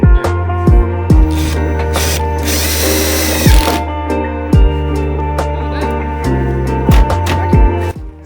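A power drill drives two self-tapping screws into the side skirt of a Subaru BRZ / Toyota GT86 coupe, whirring in short bursts with one longer run and clicking stops, loud and close with no talk.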